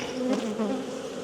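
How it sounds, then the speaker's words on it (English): A dense, continuous buzzing drone of many honey bees from a packed nuc hive, close and steady, with slight wavering pitch. "That's a lot of bees."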